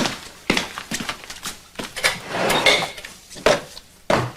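A wooden drawer slides open with a series of sharp knocks and scraping thuds, close and fairly loud, in an indoor room with no talking.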